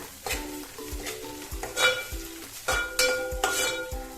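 About a teaspoon of ginger-garlic paste sautés in a pan for street-style pav bhaji. A quiet frying hiss sits under repeated rhythmic scrapes and clinks of a spoon stirring against metal.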